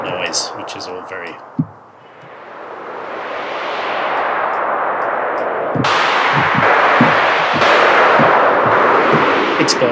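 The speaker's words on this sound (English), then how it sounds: "And then of course our noise, which is all very" A noise oscillator on the Bandy 64-bit VST3 software synth gives a steady, hissing wash of white noise that swells in, then continues with sharp, explosive-sounding bursts and thumps. A voice is briefly heard before the noise begins.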